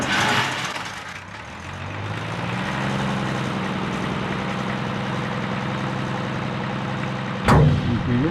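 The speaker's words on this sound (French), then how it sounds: "Plus on va lever la manette, plus on va envoyer de gasoil au moteur et plus le moteur va tourner vite." A ship's diesel engine rumbles steadily and builds in speed as its fuel lever is raised, a deep continuous drone with a sharp clank near the end.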